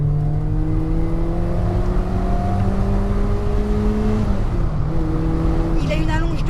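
A Volkswagen Golf GTI Mk1 with a 1800 engine revs hard through the gears, a loud in-cabin drone of rising engine pitch that drops briefly at a shift before climbing again, continuous throughout.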